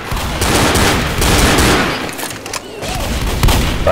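Rapid bursts of gunfire from the Left 4 Dead video game, loud and continuous throughout, with dense crackling shots layered over faint background voices.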